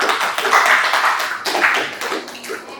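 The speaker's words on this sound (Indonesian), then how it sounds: "Kita berikan tepukan untuk kelompok 1." A classroom full of students claps for a presenting group, a dense, steady patter of many hands at moderate loudness that fades toward the end.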